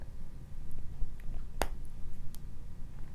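A couple of small, sharp clicks, a fountain pen converter snapping into place, stand out against quiet handling noise, one snap in the middle and another at the very end.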